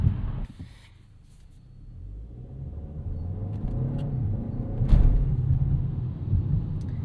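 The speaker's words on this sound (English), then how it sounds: "the gear changes here, they aren't instantaneous" A 2026 Kia K4 turbo hatchback accelerates through gear changes, a low engine rumble heard from inside the cabin that dips, then builds steadily with slight surges as the gears shift, with no talking.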